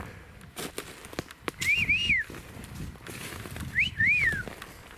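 A person whistles two separate rising-and-falling calls outdoors in the woods to call Bigfoot, moderately close, with rustling footsteps and faint background noise between them.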